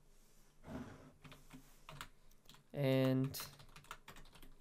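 Keys clacking on a computer keyboard while text is entered in Adobe Illustrator, a brief burst of close, quick taps between spoken words.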